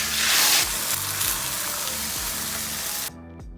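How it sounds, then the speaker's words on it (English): Beaten egg spread across a very hot, lightly oiled wok for a Thai stuffed omelette, giving a loud, steady sizzle and crackle that runs for about three seconds and then cuts off abruptly. "Spread it evenly all over your wok or pan. Make sure your oil is extremely hot."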